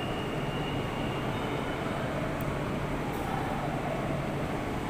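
A Whoosh high-speed train sounds at Padalarang station as a steady, broad rumble and whoosh of rolling rail noise, continuous and moderately distant, with no talk.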